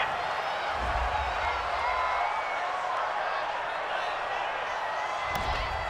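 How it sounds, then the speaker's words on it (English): Home crowd in the Madden NFL 20 video game reacting to a pass interference penalty call: a steady, dense wash of stadium crowd noise with a broad cheering roar, constant and fairly loud throughout. "This home crowd, they're happy with that call."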